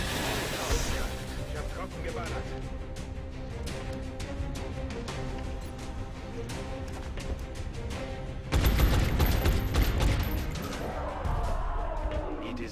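Gunfire and rocket shots ring out in the XCOM video game as rapid, dense bursts of sharp cracks over a steady backdrop, with a louder blast partway through and a voice talking over it.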